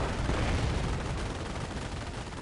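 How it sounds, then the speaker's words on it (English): Anti-tank guns firing on mortar and infantry half-tracks in a Company of Heroes battle, a dense continuous roar of gunfire and blasts with no clear pauses. "he moved in with his anti-tank guns, and they are gonna wipe these mortar half-tracks out"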